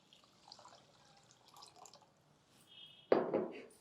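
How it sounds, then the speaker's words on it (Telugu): Soft trickling and dripping of water, fairly quiet, then a louder splashing pour of water onto rice in a pressure cooker near the end, close by. "1కి 2 గ్లాసులు నీళ్ళు పోసేద్దాము"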